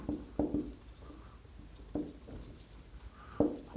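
Pen or marker writing out a solution to a pair of linear equations on a board or paper, with a few sharp tapping strokes and soft scratching, close and alone without talk.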